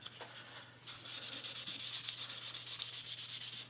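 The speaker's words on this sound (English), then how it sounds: "I'm trying to kind of feather it out toward the edges a bit, so I don't sand the edges as far back." Hand sanding water-based stain on a guitar body, a steady run of close, rhythmic rubbing strokes that starts hesitantly and then settles into a quick, even back-and-forth scrape with no talking.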